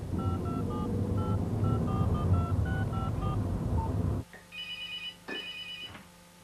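A phone rings in repeated electronic trills over a low rumbling car interior, followed by a couple of brief beeping tones once the rumble drops away.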